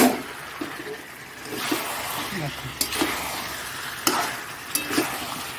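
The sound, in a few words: potatoes added to chicken curry, stirring and frying in pan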